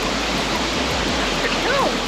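A waterfall pours into a pool in the Atherton Tablelands, giving a steady broadband rush of falling water that holds constant and close throughout, with a faint higher voice-like trace near the end.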